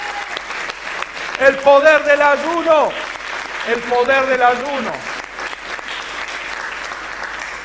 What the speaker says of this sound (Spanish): Denle el aplauso fuerte al Señor